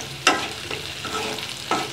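Whole cumin seeds and garlic frying in hot oil for a tempering over a pumpkin and spinach curry, with a few sharp bursts of sizzle and stirring over a steady crackle, close and alone.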